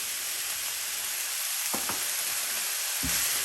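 Seasoned sauce with Worcestershire sauce, black pepper, garlic powder and onion powder sizzles steadily in a pan for a Big Mac pizza, with a few soft scraping stirs cutting through the constant frying hiss.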